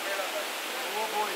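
Mensesilad waterfall in Crocker Range Park near the Melalap substation roars with a steady, broadband rush of falling water that holds at an even level throughout.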